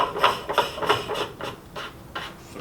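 A high temp union being threaded back onto a pool pump, giving a close series of rhythmic plastic clicks and scrapes, about eight, evenly spaced.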